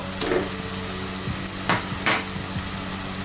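Onions frying in a pan for an Ethiopian beef stew make a low, continuous sizzle over a faint hum, broken by three quick utensil scrapes and clinks, no speech.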